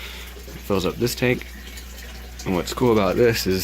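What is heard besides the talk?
water falling from gravity-fed greenhouse tank pipe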